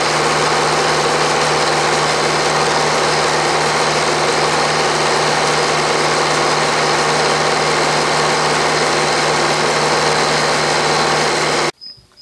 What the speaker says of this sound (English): I'm now milling this side of the slot, taking off about 100 thousandths, which is almost to the layout line.